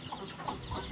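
Free-range country chickens on a small farm with laying hens, clucking softly in a few short calls over steady low background noise, fairly close and quiet.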